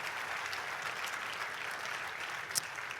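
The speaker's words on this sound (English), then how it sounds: "Let's give him a round of applause." At a consciousness conference plenary session, the audience claps in a continuous, moderately quiet round of applause, evenly sustained with no voices breaking through.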